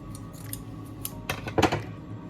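Several quick scissor snips sound close by, spaced irregularly, with a slightly louder cluster of cuts near the end.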